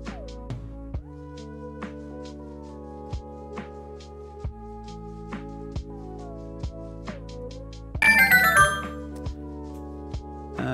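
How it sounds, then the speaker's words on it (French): Electronic phone ringtones chime repeatedly in a rhythmic pattern, with a brighter, busier burst of tones layered in near the end; no voices. "on va couper les sonneries"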